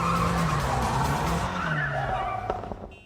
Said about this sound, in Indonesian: saat mereka akan berangkat dan menggaspol mobil mereka